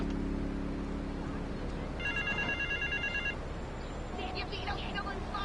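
A telephone rings in a video game, a short electronic ringtone burst that is fairly faint under steady background noise and game ambience.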